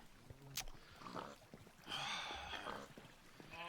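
A pig in Minecraft gives a few short grunts and oinks, mixed with brief game noises and a bit of voice in the background.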